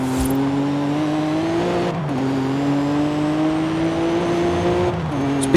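A Vauxhall Lotus Carlton's engine drones steadily in Forza Horizon 5, pitch climbing through the gears with two quick shift dips, loud and close with no talking.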